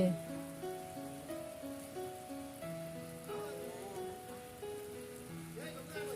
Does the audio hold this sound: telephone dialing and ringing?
no